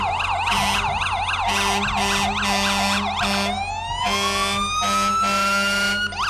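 A volunteer fire department truck at a holiday parade blasts its loud horn in repeated bursts over a wailing siren, close by and continuous for several seconds.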